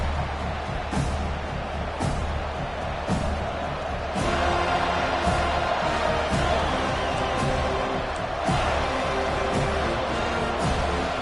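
Football stadium crowd noise in a Madden video game forms a constant, loud roar beneath periodic thumping beats, with a commentator talking over it.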